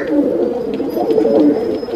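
Pigeons cooing close by in a loft in Vikroli, Mumbai, among Kaldume, Nildume, Kalanch and Kalpare breeds: soft, throaty, rolling coos that rise and fall continuously, loud and near.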